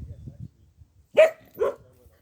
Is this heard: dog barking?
yes